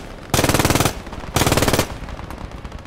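Two loud, close bursts of rapid machine gun fire from the video game Squad 44, each lasting about half a second, separated by a brief pause.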